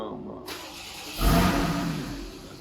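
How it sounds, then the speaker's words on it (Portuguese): A Porsche Boxster S 981's flat-six boxer engine cranks and fires with a sudden loud burst, then settles into a rumbling idle over the next second or so. "Sempre que um Flat Six, né, um motor Boxer, liga, a gente tem que parar para ouvir."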